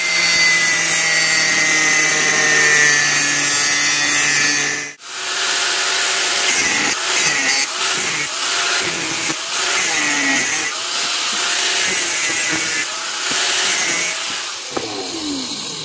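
An angle grinder's cutting disc whines steadily at first, then scores a line in steel for knife making with loud, uneven grinding and scraping that continues close up.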